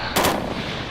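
A video game gunshot cracks out once, with a quick double report, loud and sharp, then decays into a brief echoing tail over low ambient noise.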